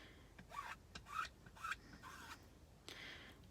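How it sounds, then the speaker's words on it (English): Rubber squeegee dragged over a coffee stencil to scrape up excess stencil paste, giving several short, close rasping strokes in an uneven rhythm with a longer scrape near the end. "going back over it with my squeegee to pull up any of the extra paste"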